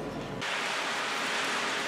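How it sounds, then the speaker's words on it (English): A dense, steady hiss of heavy rain in Newport fills the air, starting abruptly and continuing loud and unbroken. "It's still raining."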